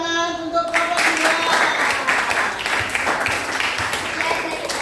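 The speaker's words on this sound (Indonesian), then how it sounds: "Beri tepuk tangan untuk Bapak Dua." A classroom of students bursts into applause for a presenting group, dense clapping starting after a brief pause and continuing steadily, with some voices mixed in.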